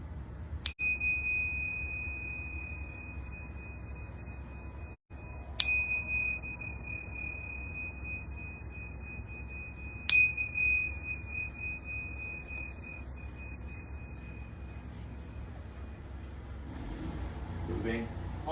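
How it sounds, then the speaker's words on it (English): Small yoga bells rung three times at a home yoga session, each a bright ringing strike about five seconds apart that sustains and slowly fades over a low steady background hum. "And I'm going to ring these yoga bells 3 times."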